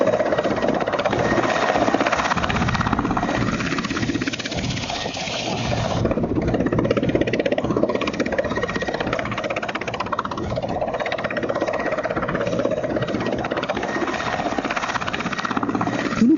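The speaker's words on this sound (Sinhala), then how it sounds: "හෙලියානා අනුරාධපුර ගුවන් කඳවුරෙන් පිටත්ව ගිය අයුරුයි මේ" Bell 212 military helicopters depart Anuradhapura air base, giving off a continuous loud rotor and engine drone that stays steady throughout, with no one speaking over it.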